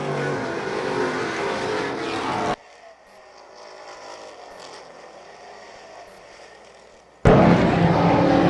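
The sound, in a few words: Super Streets race cars racing at Wiscasset Speedway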